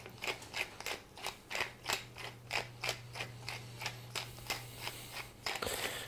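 A pepper mill cracks fresh black peppercorns in a steady run of about a dozen sharp, rhythmic grinding clicks, close and clear over a low steady hum.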